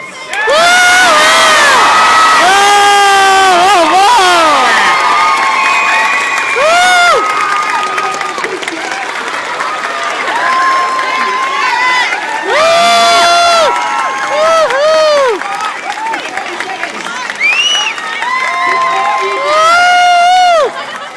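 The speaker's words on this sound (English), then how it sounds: "Let us celebrate their union with wild applause." Crowd at an equal love street rally in Adelaide cheering and applauding, loud sustained whoops and shouts with clapping, swelling in several waves and staying close and intense throughout.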